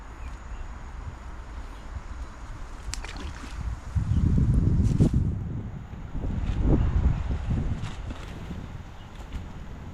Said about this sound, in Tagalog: Yun, hangin.